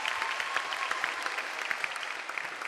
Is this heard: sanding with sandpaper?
no